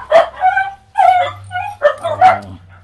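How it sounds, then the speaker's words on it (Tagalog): Several house dogs bark and yip loudly and close by, reacting to another dog passing outside, in a few sharp bursts with short pauses between. "yung ibang aso ko nag-iingay na kasi may dumadaang aso rin."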